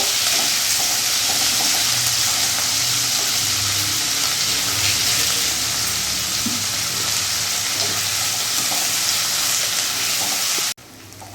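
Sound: onions frying in a pan

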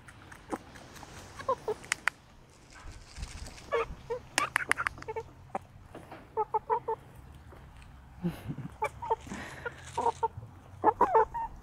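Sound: chickens clucking in garden

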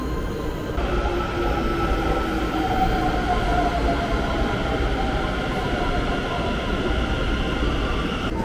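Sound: train passing at a station

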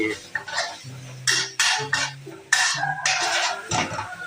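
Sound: stir-frying instant noodles in a pan

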